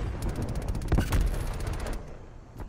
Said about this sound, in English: Who the fuck is shooting that gun?